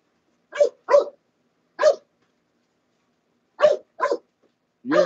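A dog barks six times in short, sharp bursts: a quick pair, a lone bark, then another pair and a final deeper bark, close to the mic with silence between them.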